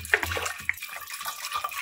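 Water splashes and gurgles steadily as it is poured into a cooking pot holding washed potatoes, with a few brighter splashes. There is no talk over it.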